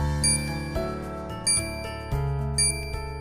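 A small metal bell in an animated children's story about a goat, rung in a few bright metallic dings over a steady droning musical backdrop.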